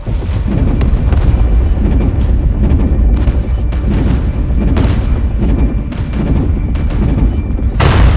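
Ship guns firing in the Warhammer 40k: Chaos Gate Daemonhunters video game, a loud continuous barrage of booming cannon blasts and rumbling explosions that rolls on without pause.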